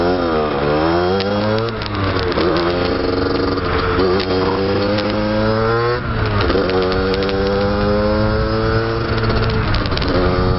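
A rebuilt engine, back together after a seizure, running loud and close with repeated rising revs that climb and fall in pitch over a constant rough drone, with no talking.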